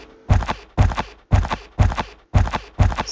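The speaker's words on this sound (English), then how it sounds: "I'm going to show you how to add footstep sounds like this." Six evenly spaced video game character footsteps on a hard surface, each a sharp thump with a brief scuffing tail, crisp and close with no talking.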